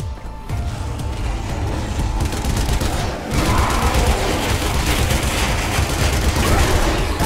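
Sustained automatic gunfire in the Zombie Army Trilogy shooter game, loud and rapid, with a brief pause before the firing resumes even harder.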